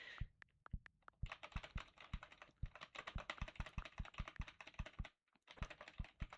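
Computer keyboard keys are mashed in fast, uneven bursts of loud, close clacking, with short pauses between the flurries during a speedrun of Love Eternal.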